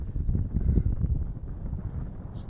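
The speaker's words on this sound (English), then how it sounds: "It's quite windy up here today," Wind on an exposed hilltop in the Peak District buffets the microphone in a constant low rumble, gusting slightly without pause and with no other sounds over it.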